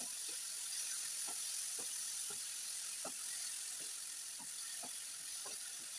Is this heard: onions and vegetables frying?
yes